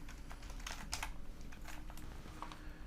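Quiet keystrokes on a computer keyboard, typing text into a website search box, come as a quick irregular run of soft clicks close by.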